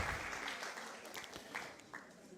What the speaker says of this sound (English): let's get another lusty round of applause for all the participants here today in the semifinals and the finals